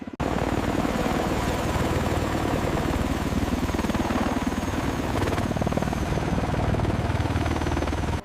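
An MV-22 Osprey tiltrotor aircraft roars steadily and loudly overhead, its dense rotor and engine noise continuous for about eight seconds with no voices.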